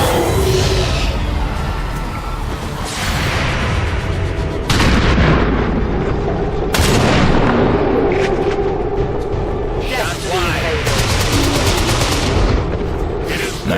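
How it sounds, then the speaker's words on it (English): Video game gunfire aimed at zombies: loud, repeated bursts of shots and booming blasts strike at irregular intervals across about fourteen seconds, some in rapid strings and others as single heavy cracks, with no talking. "there's gonna be a lot of firing going on"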